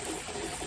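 A small waterfall splashes into a goldfish pond at an RV resort in Pahrump, Nevada, a steady, soft, continuous trickle and wash heard briefly up close, with no voices.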